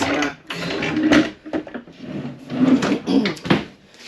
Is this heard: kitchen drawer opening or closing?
yes